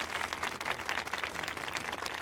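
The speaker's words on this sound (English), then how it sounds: "We want to offer this applause in their support." Residents gathered outdoors clap together in support of the family of a missing toddler during a rescue operation, a faint, steady crowd applause of many hands heard at a distance.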